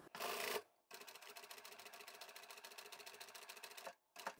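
A sewing machine stitches the edge of a quilted table runner in a fast, even run of mechanical ticks that stop briefly before resuming, quiet and close.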